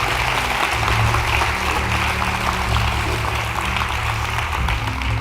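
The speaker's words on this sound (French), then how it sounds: "Maintenant, Jean-Luc, on les applaudit bien fort." An audience at a tourism awards event applauds startups in a dense, steady wash of clapping that holds at one level for several seconds, with a low hum running underneath.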